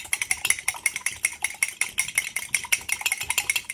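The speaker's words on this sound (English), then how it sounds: "So then you're going to whisk it up" A fork whisks egg in a bowl, producing a quick, steady run of light clicking taps against the side, close and fairly even in rhythm.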